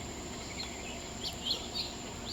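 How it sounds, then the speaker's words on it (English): A bunch of house finches call outdoors near a house in summer, several brief, bright chirps clustered toward the end and fairly faint against a constant insect hum. "There's a bunch of house finches."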